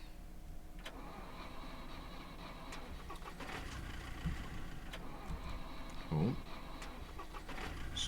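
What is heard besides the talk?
car engine stalling while starting, in the video game SCUM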